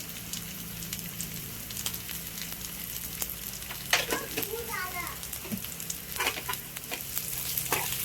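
Spiced potatoes frying in a pan for achari potato bhaji, with a steady sizzle, spoon scrapes and clanks as they are mixed, and faint children's voices in the background.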